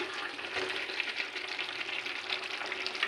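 Coriander powder is stirred into a frying curry, giving a steady close sizzle with soft scraping from the stirring throughout, and no talk.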